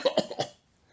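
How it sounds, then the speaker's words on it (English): A few quick, dry coughs in a short burst from one person, close and fairly quiet, trailing off into silence. "Sorry, bit of a cough."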